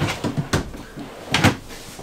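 A drawer in a 2023 Forest River Flagstaff Classic 826BHS travel trailer is pulled open, giving a few close wooden knocks and short sliding clunks in quick succession.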